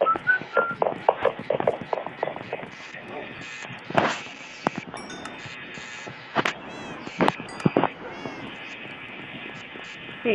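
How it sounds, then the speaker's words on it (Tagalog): Cats meowing in the Minecraft video game, repeated short mews scattered over game sounds and clicks, with a person talking alongside. "Ang ingay ng pusa"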